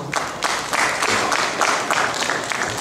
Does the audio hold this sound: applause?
yes